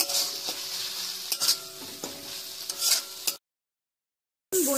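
A spoon stirs pieces of bhola fish into ginger-garlic masala in a hot frying pan, scraping and clinking against the metal over a soft sizzle. It stops abruptly into silence, then briefly resumes.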